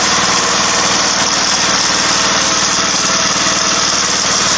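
A small gasoline engine taken from a generator, now fitted with a new, quieter muffler, runs steadily at a loud, even buzz close by, with no break or speech.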